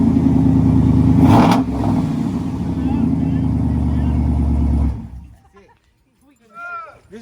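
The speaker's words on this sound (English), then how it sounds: "I'll let y'all hear the truck when we get out. So I'll start it up." The engine of a lifted 2016 Ram 2500 pickup turns over and settles into a loud, steady low rumble for several seconds, heard close, then cuts off and a voice speaks briefly.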